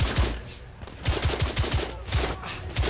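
Rapid gunfire in the shooter game The Order: 1886, bursts of sharp repeated shots in an uneven rhythm, loud and close, with scattered impacts over a continuous battle din.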